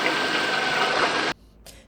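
A vacuum sealer runs with a steady, loud, close mechanical whir for over a second, then cuts off abruptly, followed by a short faint click.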